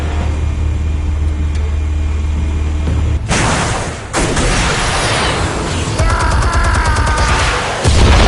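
Explosives detonate in a Batman video game, a sudden loud blast with crackling debris that rolls into sustained rumbling and burst-like bangs over several seconds, preceded by a steady low hum.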